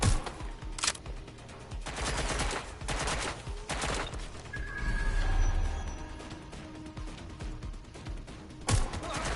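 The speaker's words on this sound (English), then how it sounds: "They're shooting at us!" Gunfire in the video game Watch Dogs Legion, with several sharp, loud bursts and single shots spread across the clip, some rapid and clustered, others isolated, over a tense background.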